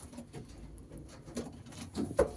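Racing pigeons coo in a crowded loft, soft low coos rising and falling close by, with light fluttering and shuffling in the background.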